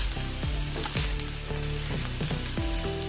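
Onion and green chili hit hot oil already crackling with mustard seeds and cumin, giving a loud, continuous sizzle with stirring scrapes and clatter close by.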